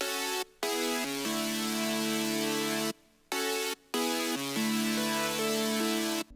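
Synth chords play in sustained blocks, changing every second or so with brief silent gaps between phrases, loud and clear without any voices.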